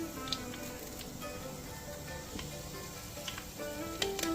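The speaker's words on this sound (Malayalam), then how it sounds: "ചൂടായ വെളിച്ചെണ്ണയിലേക്ക് അല്പം ഉലുവ ഇടാം" Fenugreek seeds hit hot coconut oil for a Kerala-style mutton liver roast, giving a soft, steady sizzle with scattered small crackles over a faint tonal hum throughout.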